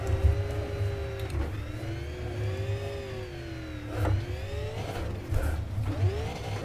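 A dirt car in iRacing revs its engine as it accelerates, the pitch rising and falling in repeated surges with short throttle lifts, steady and fairly close.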